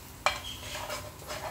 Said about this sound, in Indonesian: Kak Sumar mau campur ini ya, telurnya sama bawangnya ya.